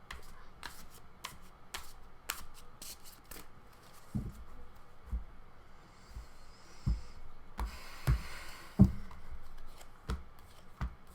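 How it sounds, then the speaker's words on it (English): A deck of playing cards is shuffled during a psychic card reading, with quick riffling bursts and soft card taps at low level, closely heard and without talk. "That was a sloppy shuffle."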